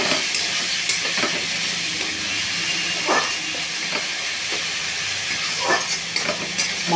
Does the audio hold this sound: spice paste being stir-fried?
yes